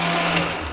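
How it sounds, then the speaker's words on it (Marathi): Kitchen mixer grinder spinning while grinding spice masala with salt and turmeric for a pea curry, a short steady high motor whir with a slight rise in pitch partway through, close and loud, with no talk. "मिक्सर मध्ये फिरवून घेते।"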